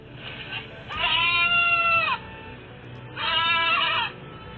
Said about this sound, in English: the goat could be heard yelling for help